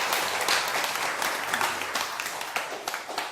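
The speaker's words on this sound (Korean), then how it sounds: "박수 한번 부탁드립니다." A seated crowd at a Buddhist dharma talk breaks into sustained applause, dense overlapping claps that hold steady for several seconds and then begin to thin out near the end.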